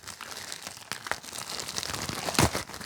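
Candle-making supply packaging is unwrapped close up, producing a continuous run of crinkling and rustling plastic with a few sharper crackles and tears and no talking.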